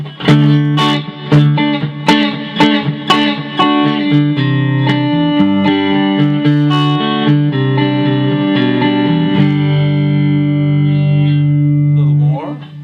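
An electric guitar plays a run of plucked notes and sustained chords, each washed in heavy reverb that leaves a long shimmering tail.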